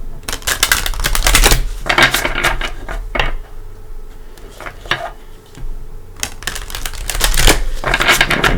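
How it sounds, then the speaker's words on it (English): A deck of tarot cards is shuffled close up in bursts of crisp riffling and tapping, with short pauses between passes and a final flurry. "I'm going to go ahead and give it a couple shuffles for you"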